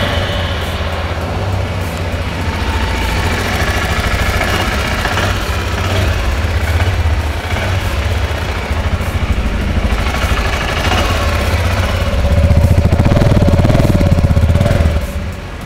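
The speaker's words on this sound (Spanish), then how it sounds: "vamos a escuchar su motor, vamos a ver cómo suena" A Voge motorcycle engine, from a 300cc to 650cc range, idles in a steady loud low rumble close by that swells slightly near the end, with no talk.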